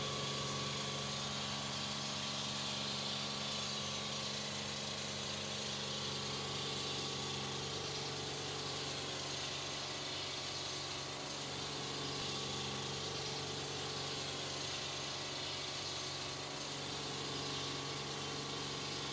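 A self-propelled concrete saw's engine runs steadily with the drive engaged, moving slowly forward; a continuous, even mid-pitched drone with faint vibration and no voices.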